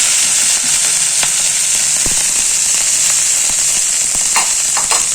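Curry leaves sauté in a hot pan for a curry leaf thuvaiyal. A loud, continuous sizzle carries close by, broken by occasional stirring clicks and scrapes.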